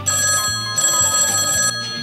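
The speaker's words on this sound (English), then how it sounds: "an old ringing telephone" An old telephone bell rings in two long bursts with a short gap between them, loud and close, then stops abruptly near the end with no talking over it.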